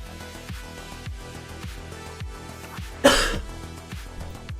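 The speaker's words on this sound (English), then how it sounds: "Somebody make me stop coughing." A single sharp cough bursts out once, loud and close, over steady rhythmic background music.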